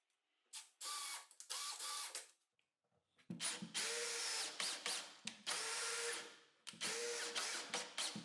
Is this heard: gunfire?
no